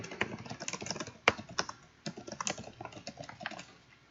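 A card title is typed into a Trello board on a computer keyboard, giving a steady dense stream of close, quick key clicks with a few louder taps and no talk.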